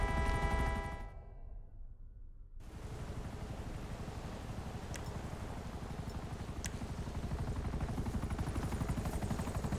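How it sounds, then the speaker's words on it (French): Helicopter in the video game GTA 5, a steady broadband rotor and engine roar that continues for the whole stretch, with a short drop-out near the start and faint sharp clicks over the top. "vous allez m'envoyer d'autres hélicoptères là"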